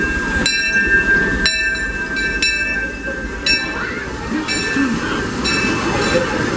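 The Disneyland Railroad steam train pulls into a theme park station with a loud, continuous rumble and repeated ringing metallic tones sounding at regular intervals over it.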